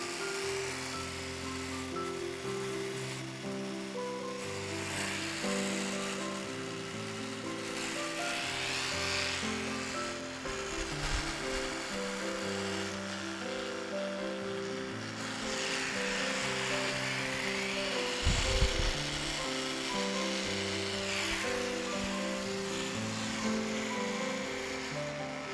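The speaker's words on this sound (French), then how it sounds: "c'est censé imiter assez bien le bourdonnement des bourdons" A handheld vibrating tool, standing in for a bumblebee, hums steadily against tomato flower stems in a garden greenhouse, with shifting pitch in a continuous low-level whirr.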